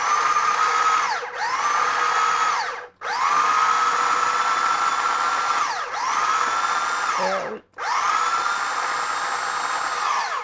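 A food processor pulsing a deviled egg mixture, four loud whirring bursts of motor spin separated by brief stops, close and steady.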